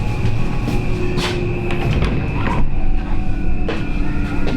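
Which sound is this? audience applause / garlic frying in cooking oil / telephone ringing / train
train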